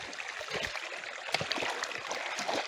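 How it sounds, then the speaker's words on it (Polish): A stream flows past a house property, a broad continuous rush of running water with scattered splashes and small knocks close by, no voices over it. "jeszcze tutaj przy jej posesji strumień płynie"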